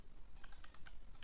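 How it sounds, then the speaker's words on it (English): Light, quick keystrokes tap on a computer keyboard in a short, uneven burst, quiet and close, with no voices. "here I am typing one more print statement"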